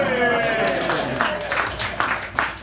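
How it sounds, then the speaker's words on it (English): An audience claps at a fundraising reception in Southwest Ranches. Scattered clapping and crowd murmur rise under a voice and the room noise. "This is where you're supposed to applaud, you know."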